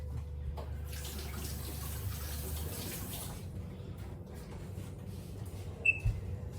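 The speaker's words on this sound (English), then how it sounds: "And I just wash my hands." Running tap water while hands are washed in a kitchen sink, a steady soft hiss and splash that thins out after a few seconds, followed by faint clinks near the end, no talking.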